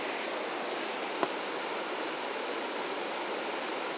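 A waterfall roars as a dense, even rush of water, steady and loud throughout, with a single faint click partway through and no voices.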